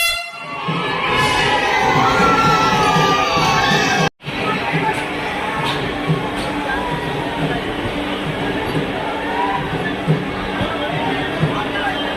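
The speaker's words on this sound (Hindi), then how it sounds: "लोग मन कितना उत्साहित है आप मन शोरगुल आवाज ला सुन के जान सकते हो" A loud, excited crowd cheering and shouting together at the arrival of the Vande Bharat Express train in Chhattisgarh, India, with horns blaring over the din and a brief cut midway before the noise resumes.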